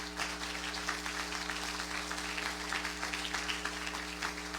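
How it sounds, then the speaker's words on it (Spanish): A church congregation claps in a sermon hall, giving a steady, moderately loud wash of applause over a constant low electrical hum. "Denle un aplauso a Cristo."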